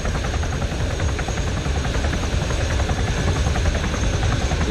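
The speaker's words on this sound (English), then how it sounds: "we go and jump in the back of the chopper here." A helicopter in the video game ArmA 3 drones loud and close with a steady rotor chop and a constant engine roar throughout, with no voices.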